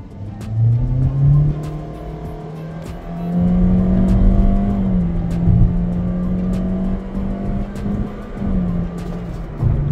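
A Toyota Corolla Grande 1.8 accelerates hard from a standstill in a 0 to 100 test, its engine note climbing and dropping through several gear changes, recorded loud from inside the car.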